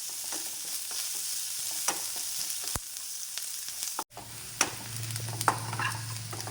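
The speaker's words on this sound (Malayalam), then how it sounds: "സബോള ഒന്ന് ഏകദേശം ഒന്ന് വഴറ്റിണ്ട്." Sliced onion sautéing in hot oil for a brinjal curry gives a steady sizzle with occasional stirring scrapes; a brief pause near the middle, then frying resumes with a low hum beneath.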